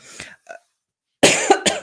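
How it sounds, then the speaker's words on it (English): A few quick coughs, the first ones faint and then a louder burst after a pause of silence. "now I'm going to cough"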